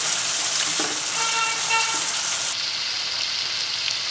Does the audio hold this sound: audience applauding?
no